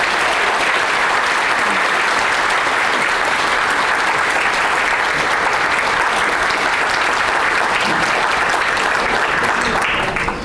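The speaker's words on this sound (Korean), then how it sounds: "큰 박수 부탁드리겠습니다." Sustained, loud applause from a large audience at a book concert for the book 'Anti-Japan Tribalism', a dense wash of clapping that fills the whole stretch and begins to thin only at the very end.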